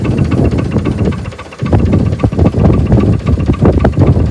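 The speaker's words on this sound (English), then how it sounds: "Was the tractor running or was the tractor not running?" A tractor engine idles loudly and close, a steady low rumbling chug with a brief dip in the middle.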